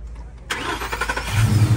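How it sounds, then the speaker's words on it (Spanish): A car engine is started with the key: a brief cranking whir, then the engine catches and settles into a rough, rumbling idle close by, with no voices. "si no vemos cómo arranca al llavazo"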